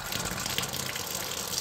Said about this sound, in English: Now we can check if the kitchen tap is working good.